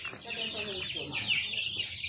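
Chickens clucking close by in a backyard at a village home, short repeated clucks over a steady high insect drone, with faint voices in the background.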